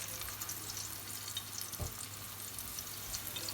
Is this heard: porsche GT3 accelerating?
no